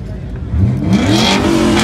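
A Volvo car engine at a car meet revs up sharply partway through, a loud rising roar close by after a quieter idle.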